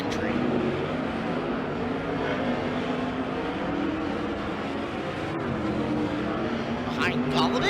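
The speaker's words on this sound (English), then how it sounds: "17W entering turn number 3, Shane Golovic" A 410 sprint car engine roars through a dirt track turn, a loud, steady blare with a rising whine near the end, while an announcer talks over it throughout.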